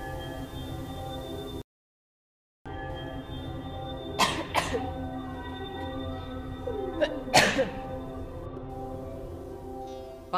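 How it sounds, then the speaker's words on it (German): Two short, sharp coughs break through a steady tonal background, separated by a few seconds, each one loud and abrupt against the sustained hum. "hast du Husten?"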